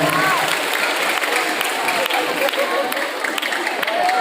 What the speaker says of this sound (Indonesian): berikan tepuk tangan buat adik-adiknya yang luar biasa di sini